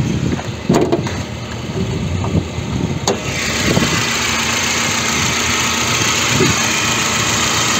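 Engine of a Datsun on-Do car idles steadily with a low, even rumble and a broad hiss, with a few clicks and knocks early on and no talking.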